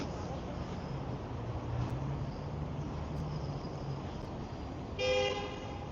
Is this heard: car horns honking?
yes